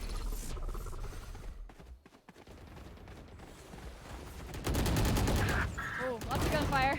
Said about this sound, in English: Oh, lots of gunfire.